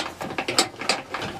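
A ratchet spins down bolts on a VW camper swivel chair, producing a quick run of close, loud metallic clicks in an uneven rhythm, heard on its own.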